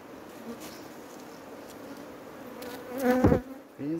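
Bees buzz in a low, steady drone around hives being smoked and opened for honey, with a louder swell near the end as one passes close.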